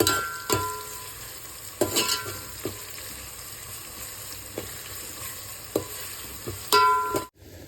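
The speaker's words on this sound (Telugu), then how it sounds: "కొంచెం ఎర్ర అయ్యే వరకు ఫ్రై చేసుకోవాలి ఉల్లిపాయలు." Onions frying in a pan until reddish, with a steady close sizzle broken by several sharp stirring scrapes and clinks of the utensil against the pot, and no talk.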